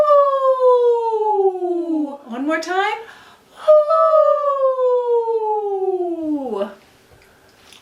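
A voice imitates a little owl's hoot, with two long sliding "hoo" calls drooping in pitch, loud and close, followed by brief speech.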